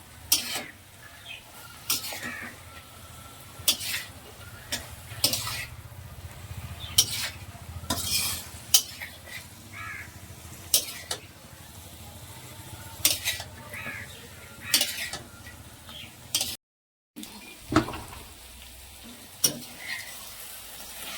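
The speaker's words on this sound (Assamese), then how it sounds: "এই টাইমতে বেঙেনাবোৰ ওপৰত দি কেনে ভালকৈ মিলাই কেনে আৰু 2 পৰা 3 মিনিট কম গেছত ভালকৈ ভাজি ল'ম" Eggplant pieces fry in spiced oil for an Assamese achari brinjal curry while a utensil stirs them, giving a steady close sizzle broken by repeated scraping and clinking strokes against the pan, with a brief gap near the end.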